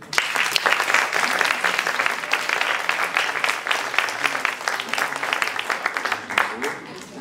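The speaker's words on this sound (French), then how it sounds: "Vous pouvez les applaudir aussi." An audience at a French children's short-film awards ceremony claps for two young presenters, a dense, lively round of applause with some voices and cheers mixed in, fairly close and loud.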